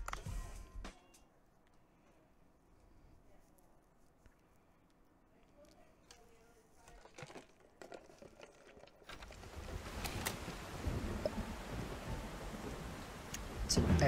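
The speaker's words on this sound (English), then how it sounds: "Extra stormy, all right." Thunderstorm with rain in Dave the Diver: faint scattered drops and crackles give way to a loud steady downpour rushing in during the second half, with rumbling underneath.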